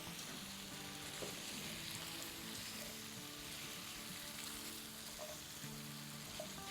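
Small diced potato pieces frying with chicken pieces in a pan over high heat for a chicken salan, giving a dense continuous sizzle with faint scraping, no talking.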